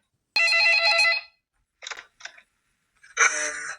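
A telephone rings in a night watchman's office in a short film: a long electronic ring burst, a few short broken chirps, then another loud ring, all sharp against silence.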